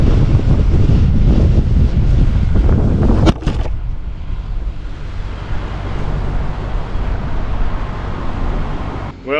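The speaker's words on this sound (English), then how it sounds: "It's too windy" Strong wind buffets the microphone in a loud, steady roar, with a sharp knock partway through before the gusting continues.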